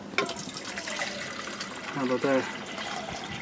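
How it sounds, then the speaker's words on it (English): Water pours into a can, a steady broadband rush running through the whole stretch while someone speaks briefly partway through. "I'll put a fair amount of water in here."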